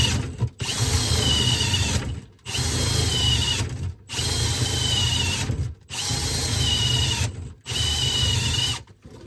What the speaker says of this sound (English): This carbide bit is really sharp.